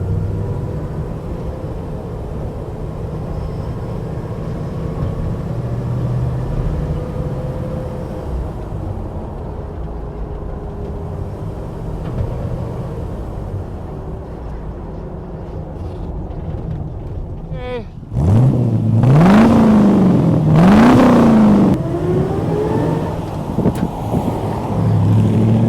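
A 1956 Chevrolet 3100 Cameo pickup truck engine idles low and steady, then revs up sharply twice, with rising and falling pitch, close and loud.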